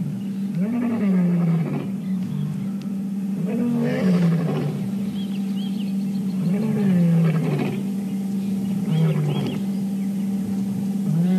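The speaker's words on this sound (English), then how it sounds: "At least 3 lion talking right now." Several lions roar in the morning bush, a series of deep, rhythmic roaring bouts that rise and fall, repeating close and loud across the whole stretch.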